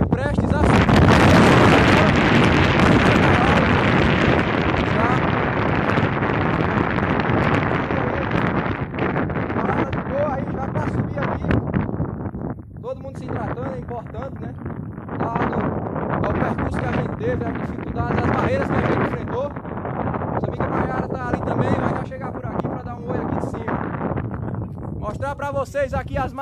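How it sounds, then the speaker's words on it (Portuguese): Strong wind buffets the microphone on a granite mountain trail in the Serra de Coco caatinga, a loud continuous roar that gusts and fluctuates throughout, with people talking underneath at times. "Tô falando um pouco alto aqui porque o vento aqui é muito forte."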